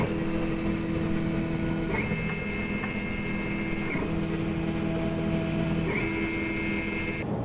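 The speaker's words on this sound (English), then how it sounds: "And here's the new startup sequence now that I'm slicing with Cura." An XYZ Da Vinci 3D printer running its startup sequence with Cura-sliced settings hums steadily up close, with repeated rising motor whines and short stepper shifts every couple of seconds over a constant fan drone.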